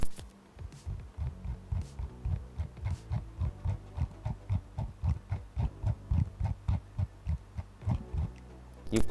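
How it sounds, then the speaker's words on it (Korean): Scroll wheel of a Cooler Master MM731 wireless gaming mouse with an optical encoder, turned in a steady series of soft, muffled notched bumps, close and fairly quiet, with no talk. "마우스 휠 엔코더는 스프링 소리가 크지 않은 편이고"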